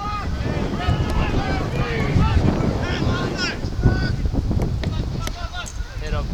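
Wind blows across an outdoor football field during a Philadelphia Fight versus White Plains Wombats match, buffeting the microphone with a loud, rumbling roar, while indistinct voices carry through.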